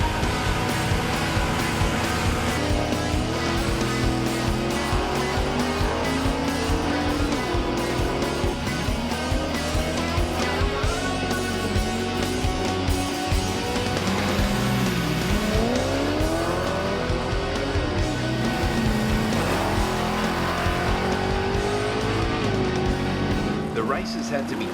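Holden Commodore cars at a dial-your-own bracket drag racing event, with engines roaring and revving through rising and falling pitch sweeps, loud and continuous, under a voice talking over the racing.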